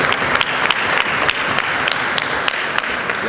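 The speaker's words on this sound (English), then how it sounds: "go on clapping for him" Crowd at a business event applauds the managing director, loud, close clapping with a few sharp individual claps standing out above the steady mass of hands, continuous and without speech.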